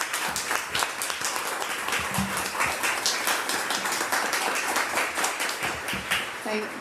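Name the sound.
audience applause for a panel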